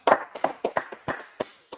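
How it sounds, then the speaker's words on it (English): A small gathering claps at a religious history class, with sparse, uneven hand claps of roughly eight distinct beats spread over under two seconds, close and fairly quiet. "Let's clap it up for the Most High God"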